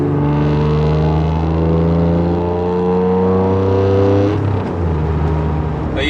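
An Acura NSX with a factory manual gearbox rated at about 270 horsepower drones steadily as it drives, its engine and exhaust note holding close and loud before dipping and settling near the end as the revs change.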